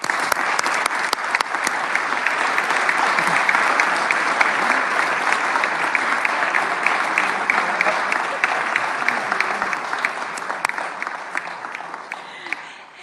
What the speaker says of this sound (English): Please give one more round of applause for this group today